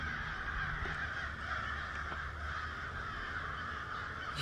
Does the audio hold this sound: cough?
no